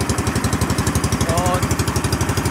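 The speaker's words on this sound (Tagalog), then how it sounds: "naririnig nyo kasi hingingay ng makina ng bangka" A loud boat engine chugs nearby with a fast, steady rhythmic throb, running continuously.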